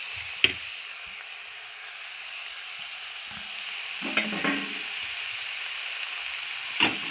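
Fried eggplant is stirred into greens in a frying pan for bota sag ghonto, with a soft sizzle under occasional spatula scrapes and clacks, the clearest burst midway and a sharp tap near the end.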